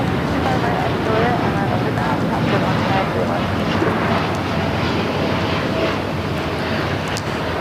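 Boeing 787 Dreamliner at LAX, diverted with a sick passenger before continuing to Mexico City, as a steady broad jet roar with wind buffeting the microphone, loud and constant throughout, with faint voices underneath.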